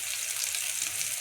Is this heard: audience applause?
no